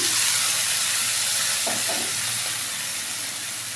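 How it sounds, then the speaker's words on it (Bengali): Water poured onto fried onions and chilies in a hot pan hisses in a loud, steady sizzle up close, with a brief stirring clatter in the middle before the hiss slowly fades a little. "এখানে আমার পেঁয়াজ মরিচ এগুলো ভাজা হয়ে গেছে, একটু পানি দিয়ে নিলাম।"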